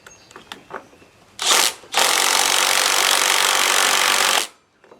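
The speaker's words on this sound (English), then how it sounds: "these are self-tapping. And they're actually going into aluminum." A self-tapping bolt is driven into an aluminum spindle housing on a Cub Cadet 833E mower, with a few light clicks, then a brief harsh grinding burst and a sustained loud rasping drive lasting a few seconds.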